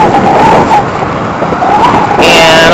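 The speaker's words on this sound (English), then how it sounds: "I've got to cross all that traffic." Busy road traffic passing close by, a loud continuous roar of cars and vehicles with swelling pass-bys and a faint siren-like whine rising near the end.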